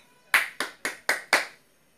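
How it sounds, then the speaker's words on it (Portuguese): A single person claps hands five times in a quick, evenly spaced run, each clap close and crisp against near silence. "Palmas. Palmas."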